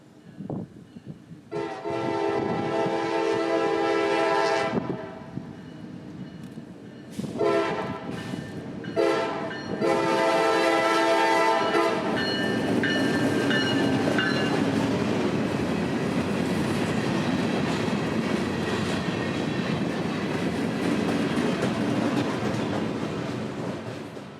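Locomotive 781 hauling empties from Tibbet sounds two loud, sustained horn blasts with a brief gap, then rolls past close by with steady rumbling and clickety-clack of the cars that continues to the end.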